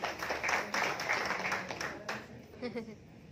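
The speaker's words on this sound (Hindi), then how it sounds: "तो जोरदार ताली करो मैम" An audience bursts into clapping that rolls along steadily at a fairly low level, then thins out and tapers toward the end.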